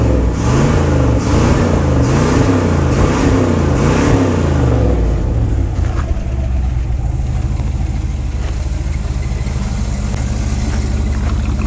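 An abandoned Dodge Power Wagon service truck engine revs in several loud, rhythmic surges over the first few seconds, then settles into a rough, steady idle that runs on close by.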